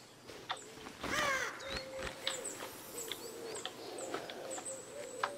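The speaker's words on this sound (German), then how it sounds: "Ach, da hinten sitzt doch ein Rabe." A raven calls in the grounds of Hogwarts in the Harry Potter and the Order of the Phoenix game, several short harsh caws repeating at intervals over a soft, steady outdoor ambience.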